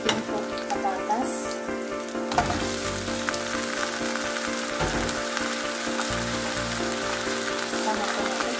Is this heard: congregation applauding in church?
no